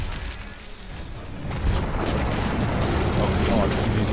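Heavy rumbling booms of exploding rocks from an armored Uragaan monster in Monster Hunter World, a low crashing burst swelling midway and lingering, with a player talking over it.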